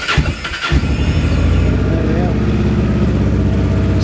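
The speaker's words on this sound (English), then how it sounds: "So that's a cold startup." A 2009 Honda NT700 Deauville mid-sized touring motorcycle fires up from cold: a short cranking burst, then the engine catches and settles into a loud, steady, close idle.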